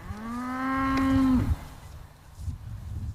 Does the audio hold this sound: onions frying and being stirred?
no